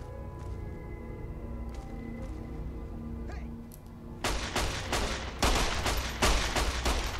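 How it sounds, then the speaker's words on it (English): An enemy fires at the player in Fallout: New Vegas, starting with a quiet low hum and then bursting into rapid, loud, cracking gunshots in clustered volleys over the last few seconds. "He is shooting me"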